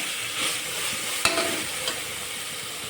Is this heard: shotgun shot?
no